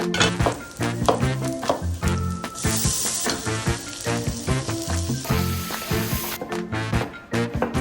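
Garlic and diced tomatoes fry in a pan, giving a steady, close sizzle that continues the whole time alongside a tonal background layer.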